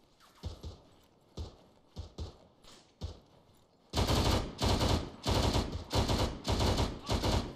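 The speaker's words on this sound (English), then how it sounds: "We're taking accurate fire." Gunfire in the military shooter Arma 3: scattered single shots and short bursts at first, then a loud, dense volley of sustained rapid fire close by.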